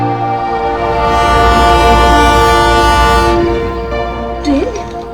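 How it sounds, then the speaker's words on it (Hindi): A train rumbles steadily past in a horror drama scene, loud and close with a sustained horn-like tone, the roar swelling then easing near the end. "ये ट्रेन अब तक मरी नहीं, फिर से चल पड़ी।"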